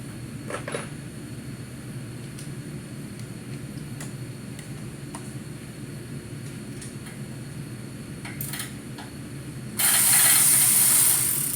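A hand ratchet clicks in irregular bursts while unbolting the engine mounts on a car during an LS engine pull, close and moderate over a steady background hum, with a brief louder hiss near the end.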